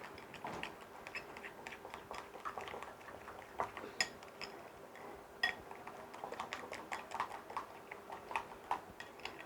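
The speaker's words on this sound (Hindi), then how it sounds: "अब इसको अच्छी तरह मिक्स करना है।" A spoon mixes a yogurt mixture in a bowl for a homemade hair-straightening remedy, producing soft rapid clicks and scrapes against the bowl in an irregular run, close but quiet.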